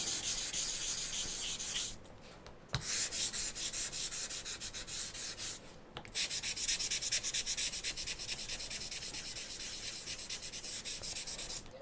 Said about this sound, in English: I'm just going to give these snowflakes a light sanding